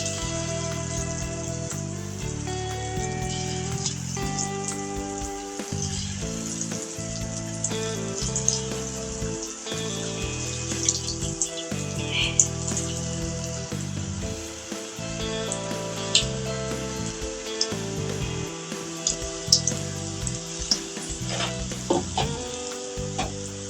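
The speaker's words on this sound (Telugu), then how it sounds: "ఆయిల్ బాగా హీట్ ఎక్కింది. ఇప్పుడు పునుగులు వేసుకోవచ్చు." Potato fritters (punugulu) fry in well-heated oil, giving a steady, loud, dense sizzle and crackle that runs without pause and with no talk.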